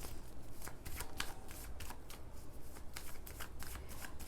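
Tarot cards are shuffled by hand in quick, rhythmic riffling bursts of soft flicking and slapping, close and fairly quiet, with no one talking.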